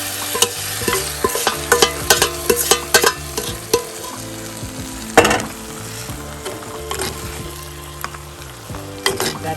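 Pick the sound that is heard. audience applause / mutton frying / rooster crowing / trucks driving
mutton frying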